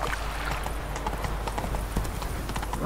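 Roach the horse trots in The Witcher 3, hooves clip-clopping in a steady, close rhythm over a constant ambient background, with no talk over them.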